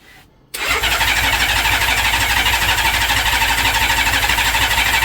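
A Honda Valkyrie motorcycle that has sat unused for two years cranks on its first start attempt. A quiet moment gives way to a loud, sustained, rhythmic engine churn that runs to the end.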